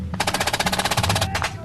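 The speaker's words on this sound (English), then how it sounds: "the platoon commander has led his men straight into enemy fire" Enemy gunfire during a military patrol, a rapid close burst of roughly twenty evenly spaced machine-gun shots followed by a couple of trailing rounds, loud and alone.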